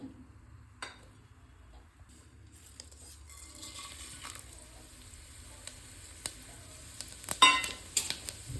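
Whole spices dropped one by one into a spoonful or two of hot oil for a tomato bath breakfast dish: quiet sizzling, scattered crackles and a few sharp pops and utensil clicks, growing busier toward the end.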